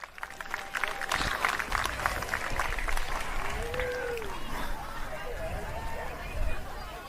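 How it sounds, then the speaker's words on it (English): A crowd at a USA BMX national race applauds, a broad wash of clapping and cheering heard from a distance under an announcer's voice over a loudspeaker. "How about a round of applause, everyone,"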